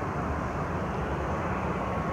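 A plane coming in to land in the evening sky, heard as a steady, broad roar of engine noise that holds level throughout with no voices over it.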